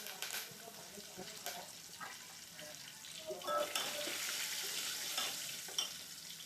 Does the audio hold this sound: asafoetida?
yes